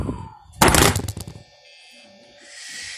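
A phone drops and clatters against a hard surface with a loud burst of thumps and rattles, then settles into a quieter room hum during a Five Nights at Freddy's gaming session.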